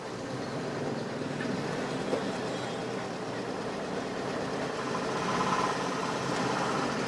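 A train rolls past a railway level crossing with a steady, faint rumble of wheels and wagons lasting throughout and swelling slightly near the end, heard from a little distance with no one talking.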